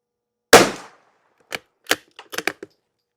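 Rifle shots fired with lubed CCI subsonic ammunition: one sharp crack with a short decay, followed by five or six quieter clicks and clacks close by, then silence.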